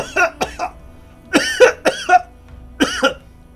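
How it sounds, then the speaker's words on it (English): Someone coughs several times in harsh, close bursts with short pauses between, the coughs strained and throaty. "I get on the radio and I cough a lot at first"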